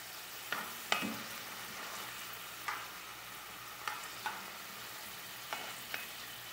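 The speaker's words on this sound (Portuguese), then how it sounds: "fritando o alho e a cebola" Garlic and onion sizzle softly in a pan, a steady frying hiss with occasional scraping clicks from stirring.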